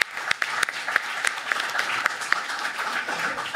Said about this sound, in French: Je l'applaudis celle-ci.